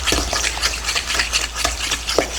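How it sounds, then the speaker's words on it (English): Blueberry jam being mixed into cream cheese in a bowl, a steady rapid rhythm of wet stirring and scraping strokes, close and fairly loud throughout. "You want to mix that together really well."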